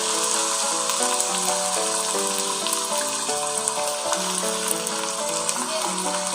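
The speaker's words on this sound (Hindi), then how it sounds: "कीमे को फ्राई करेंगे।" Minced keema fries with garlic and ginger in a pan, giving a loud, constant close sizzle under steady background music with no talking.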